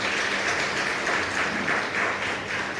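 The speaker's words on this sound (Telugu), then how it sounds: "గట్టిగా చప్పట్లు కొట్టండి అమ్మా" Audience applause in a large gathering at a religious sermon, a dense, steady wash of many hands clapping loudly and continuously, with no voices over it.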